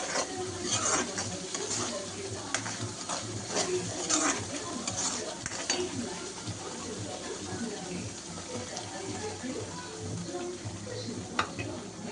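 Fish masala is stirred in a frying pan, a steady scraping and sizzling churn that runs continuously, fairly close and even in level, with faint clinks of the utensil against the pan.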